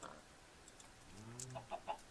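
In a video game, a chicken lays an egg, giving a faint, brief cluck followed by a soft pop and a few quiet clicks.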